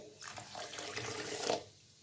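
Close, brief pour of water into sugar while making syrup for boondi laddu, a splashy trickle that lasts about a second and a half before stopping.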